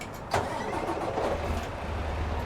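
A Detroit diesel engine on a semi truck in American Truck Simulator cranks with a sharp burst, then settles into a steady, fairly loud idle rumble that continues alone.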